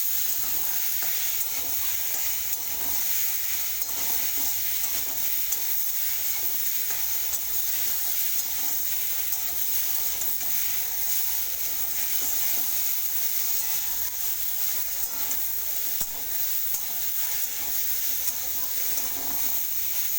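Continuous loud sizzle of taro frying with mustard paste, with constant stirring and scraping in the pan, steady and close.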